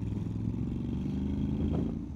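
A Honda X-ADV 750 motorcycle pulls away under acceleration, its engine drone steady and close with a faint rising note, running continuously and alone for a couple of seconds.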